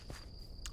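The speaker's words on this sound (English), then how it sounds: "There's crickets and stuff that chirp at night and things like that" Crickets chirp at night in the Minecraft game world as a faint, steady, high-pitched trill, with soft footstep-like rustles underneath over a very short span.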